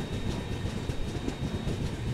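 Rajasthan Humsafar Express train running on the rails, a steady loud rumble with faint rhythmic clatter from the wheels, heard close from on board with no talking.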